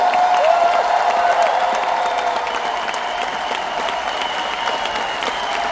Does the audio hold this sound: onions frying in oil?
no